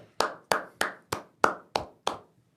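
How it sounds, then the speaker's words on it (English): One person claps seven times at an even, deliberate pace of roughly one clap every third of a second. The claps are close and crisp, and the room is otherwise quiet. "I'm just clapping my hands."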